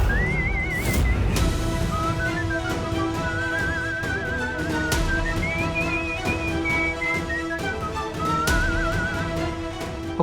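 A person whistles a wavering tune in several phrases over a low background hum and occasional thumps, moderately close and clear.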